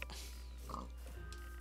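A pig oinks in a video game, a single short, quiet grunt heard against a faint, steady background hum, with no talking.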